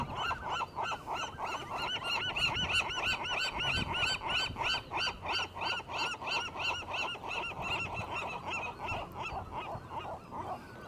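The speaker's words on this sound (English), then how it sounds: "a seagull and a cormorant singing together in perfect harmony" A seagull and a cormorant call together on a rocky outcrop, a steady run of harsh, honking squawks repeating rhythmically at moderate distance for about eleven seconds with no talk over them.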